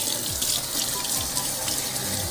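Water runs steadily from a tap into a sink, a close, even splashing stream with no talking.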